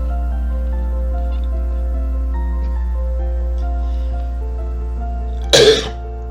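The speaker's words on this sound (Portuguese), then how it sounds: "O ar seco provoca tosse." A single short cough bursts out near the end, loud and close, over a steady low hum and a quiet musical bed.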